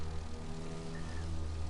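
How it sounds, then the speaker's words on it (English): Propeller airplane flying over Florida in The Crew 2, its engine giving a steady, low droning hum with even, continuous loudness and no voices. "I'm here flying a plane over Florida."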